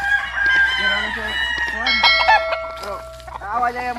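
A young rooster (stag) crowing on a backyard farm, loud and close, with several drawn-out crows and clucks overlapping one another, among other fowl and a steady low background hum.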